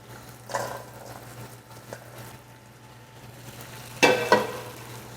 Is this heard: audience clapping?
no